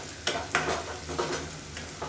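Cashews and mushrooms stir-frying in a hot pan, a steady close sizzle broken by a few scraping stirs of the spoon.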